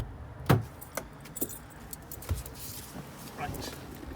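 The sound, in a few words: car ignition keys jangling, 1992 Oldsmobile 88 Royale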